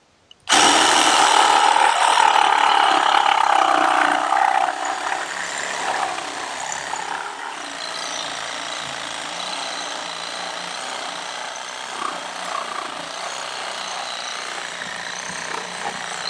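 A Ryobi power saw cuts through a small piece of hardwood, a loud, steady whining bite that starts abruptly and runs continuously, easing slightly in intensity after the first few seconds, with no talking.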